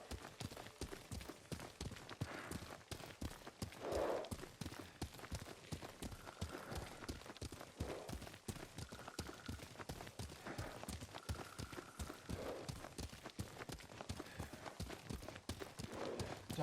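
Horse hooves clip-clopping at a steady riding pace in the Ghost of Tsushima video game, a regular rhythmic beat of fairly soft footfalls running continuously beneath game music.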